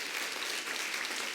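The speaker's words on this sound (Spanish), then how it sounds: "Denle un aplauso fuerte al Señor." Loud, dense applause fills a church service, a steady wash of many hands clapping at once with no voices standing out.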